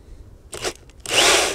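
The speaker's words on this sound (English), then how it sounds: "I'm using a corded drill." Corded drill bores into a gas grill while it is converted to natural gas or LP: a short whirring burst, a pause, then a louder sustained drilling whine.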